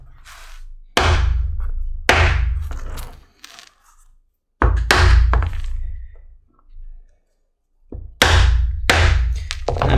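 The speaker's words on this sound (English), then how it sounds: "I'm using a 3/8 inch hole punch for a couple of these corners and then the ends of the belt holes." A 3/8 inch hole punch strikes leather for a cross-draw pancake holster, giving four loud, close thunks, each with a short ringing tail, separated by brief pauses and quieter handling noise.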